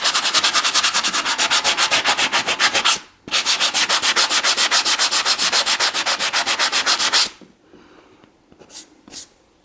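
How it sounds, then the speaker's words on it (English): Rapid back-and-forth strokes of medium-grit sandpaper on a wooden bannister, loud and close with a steady rasping rhythm, pausing briefly around three seconds and stopping near seven, followed by a few faint scuffs. "I'm using a medium grit,"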